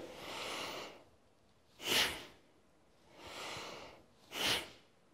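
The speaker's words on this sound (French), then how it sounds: "La respiration se fait uniquement par le nez et elle est audible, en particulier à l'expire." Two forceful nasal exhales in Bhastrika bellows breathing, each a sharp breathy burst, alternating with softer, longer audible inhales through the nose, close and isolated with no talking.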